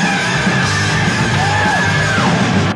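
A man screams in a sustained metal vocal style, one long raspy pitched yell held for nearly three seconds before sliding down at the end, loud and alone.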